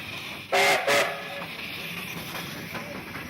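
Passenger train north of Napier on its last rail journey, two loud whistle blasts over a steady rolling hiss and rumble, fairly close.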